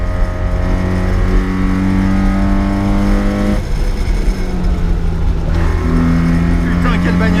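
A 1980 Mitsubishi Minica with a four-speed gearbox drives in third gear, its small engine droning loud and close with clear tonal harmonics, then the pitch drops briefly at a shift before rising again.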